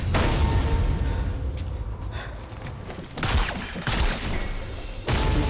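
Gunfire in a Sniper Elite 4 multiplayer match on PC: dense, continuous bursts of shots and booms roll through the clip, with sharper loud blasts near the middle and the end.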